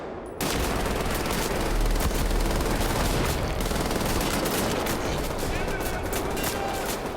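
Sustained, dense turret gunfire in Wolfenstein: The New Order, a loud continuous roar of rapid shots that starts abruptly and runs without pause for several seconds, no voices over it.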